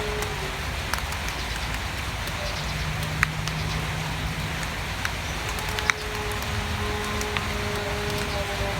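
Rain falls steadily outdoors at a roadside fence meal of spicy papaya salad and crispy pork rind, a constant close patter with scattered sharp drips and ticks throughout.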